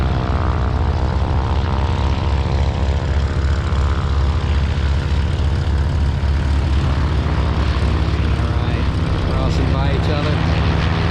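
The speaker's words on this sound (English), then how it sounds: "here comes another plane, ready to take to the skies" Propeller aircraft taking off at Santa Monica Airport, a loud, steady engine drone with a muscle-car rumble that holds near and strong throughout, a faint voice underneath.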